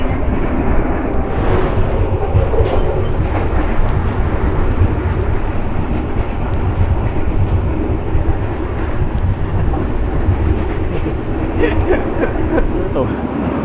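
Steady, loud rumble and rattle of the Sritanjung passenger train rolling on rails between Lempuyangan and Ketapang, heard from inside the carriage as continuous broadband clatter with small knocks throughout.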